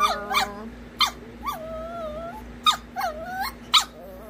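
A very vocal puppy eager for ice cream whimpers, yips and growls in short bursts, with several rising and falling whiny cries separated by brief pauses, close and clear.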